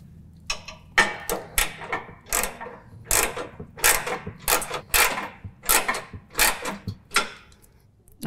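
Adjusting a John Deere S220 mower deck gives a rapid run of close ratcheting clicks, a dozen or so sharp metallic ticks in an uneven rhythm.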